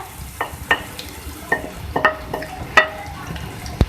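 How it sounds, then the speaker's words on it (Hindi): Crushed potatoes and cumin are stirred in a hot pan for an egg potato omelette, with a series of scraping, clattering spatula strokes over a soft sizzle, close and fairly loud, in an irregular rhythm. "अब मैं इसमें ऐड करूंगी आलू, क्रश पोटैटो, मिक्स कर लें"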